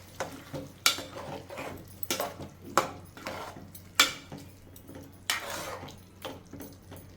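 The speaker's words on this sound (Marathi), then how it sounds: "आता हे गरम पाणी मी ह्यामध्ये घालते" Hot water goes into a pot of Aagri-style dried-fish potato curry with scattered clinks of a spoon against the pot, bubbling and splashing, close and fairly quiet.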